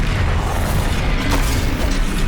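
Bombarda spell blast in Hogwarts Legacy, a loud, dense booming explosion with rumbling low end that fills the whole short moment.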